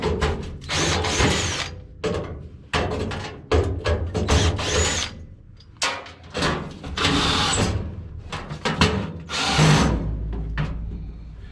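A power drill driving and removing hex head and round headed screws on a V-12 rat rod, in repeated loud bursts of whirring and ratcheting separated by short pauses.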